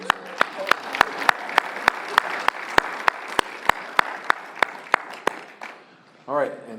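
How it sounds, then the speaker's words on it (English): Applause fills a room at a twelve-step recovery meeting, with one nearby person clapping in a sharp, steady rhythm above the softer crowd for about six seconds before it stops and a voice begins speaking. "everybody give Katie a round of applause"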